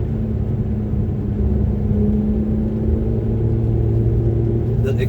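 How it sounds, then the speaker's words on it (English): A 2006 Ferrari F430 Berlinetta drives on back roads, its exhaust holding a steady, deep droning note at an even throttle with no sharp revs. "The exhaust note on this car didn't sound this clean before I took it to the mechanic shop."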